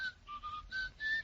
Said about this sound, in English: You're whistling off key